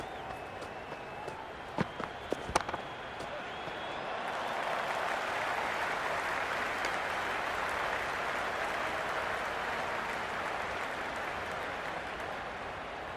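In the cricket video game Cricket 26, a stadium crowd rises from scattered claps into a steady, broad roar of cheering and applause that carries on at a distance.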